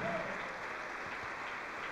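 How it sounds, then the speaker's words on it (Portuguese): A church congregation applauding together, a continuous soft patter of many hands clapping with a faint voice briefly heard near the start. "Vamos aplaudir mais, igreja."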